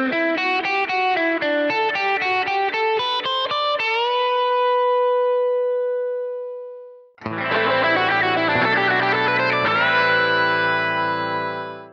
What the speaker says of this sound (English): here the arpeggio precedes a Dorian lick